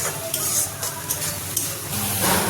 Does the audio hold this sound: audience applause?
no